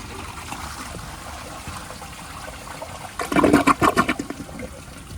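A 1983 Gerber Mt Vernon toilet flushing up close, a quiet hiss and trickle of water at first, then a sudden loud gurgling rush of the flush near the end.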